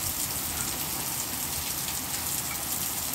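Heavy monsoon rain in Goa pours steadily as a dense, even hiss of drops on surfaces, loud and continuous with no voices.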